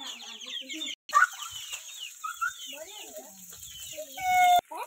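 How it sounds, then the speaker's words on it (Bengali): A chicken clucks close by in a home setting, giving a run of short chattering calls and a few higher squawks, with a person talking softly in between. "আরে মুরগি তোর খিদা লাগছে নি?"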